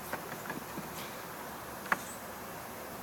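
Bees swarming around a beekeeper at a hive, a faint continuous buzzing hum with a few soft ticks and taps, heard close in a quiet outdoor setting.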